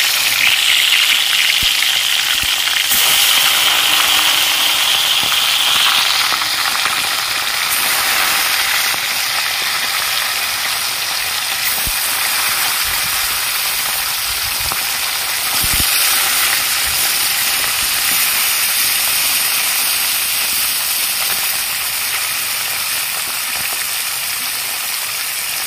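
Fish frying in hot oil in a wok, a steady close sizzling hiss with soft pops that continues evenly throughout, no voices.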